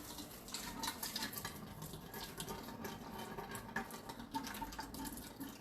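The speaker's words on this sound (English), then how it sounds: "We're going to strain out the noodles here." Hot water and cooked spaghetti noodles poured through a strainer in a home kitchen, a steady, faint rushing splash of draining water lasting several seconds with no voices over it.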